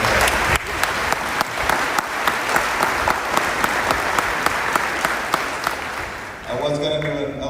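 Audience at a Miami-Dade Fire Rescue recruit graduation ceremony breaks into loud, sustained applause with dense clapping and a few sharp claps standing out, fading near the end.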